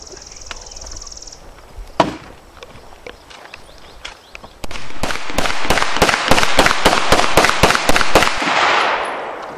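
Intratec Tec-9 pistol fired outdoors, one early shot followed by a rapid string of about twenty sharp, loud cracks in quick, fairly even succession.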